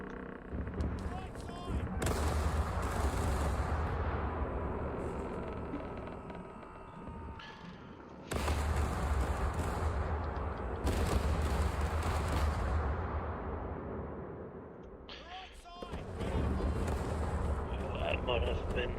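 Ship cannons fire in the naval video game Caribbean Legend, heavy booming blasts that come as long, rumbling broadside volleys with a few breaks between them, loud and close, while someone talks over them.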